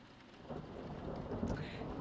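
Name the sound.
rain and thunder ambience effect in a tabletop RPG session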